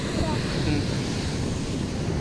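Ocean surf at Thiruvanmiyur Beach in Chennai, a continuous broad wash of waves with strong wind buffeting the microphone, steady and fairly loud throughout.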